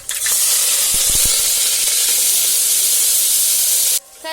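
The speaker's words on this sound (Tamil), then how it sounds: "வெங்காயம் சேர்த்து நல்லா வதக்கிக்கலாம்." Chopped onions hit hot oil already crackling with mustard, cumin and fenugreek seeds in a home kitchen cooker, bursting into a loud, steady sizzle and hiss that holds nearly four seconds, then drops abruptly to a quieter clatter.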